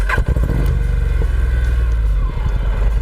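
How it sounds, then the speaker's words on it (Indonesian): A Honda NM4 Vultus motorcycle engine cranks and fires, then settles into a loud, steady, close-up idle with a rapid even pulse. "Jadi ketika kita nyalakan motor ini seperti ini,"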